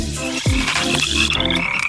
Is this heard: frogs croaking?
yes